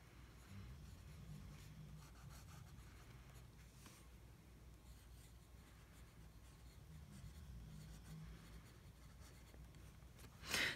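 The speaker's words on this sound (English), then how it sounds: "I'm trying to write very slowly and carefully so it doesn't shake much." Soft, close scratching of a fountain pen with Noodler's Lexington Gray ink moving slowly across paper in quiet strokes, ending with a brief louder scrape.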